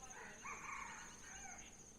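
A wild red junglefowl crows at moderate distance in open countryside, one drawn-out two-part call rising and falling over a steady insect-like hiss.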